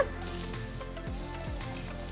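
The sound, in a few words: vegetables sautéing in a pan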